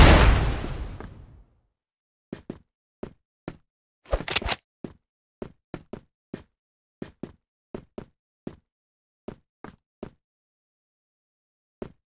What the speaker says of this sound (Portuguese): Toma, granada! Flash!